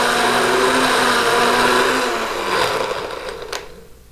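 An electric blender whirs loudly and steadily while mixing a pomegranate fruit margarita, its motor note shifting slightly before winding down and stopping near the end.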